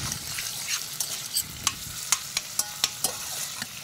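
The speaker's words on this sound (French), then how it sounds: "À ce moment-là, on fait tout revenir ensemble." Ingredients being sautéed together in a pan, with a soft continuous sizzle broken by sharp, rhythmic taps and scrapes of a utensil stirring; no talking.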